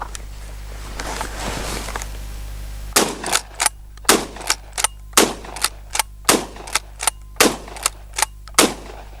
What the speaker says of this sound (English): We'll just shoot from them and just see how that Pardus feels just going from one target to the next.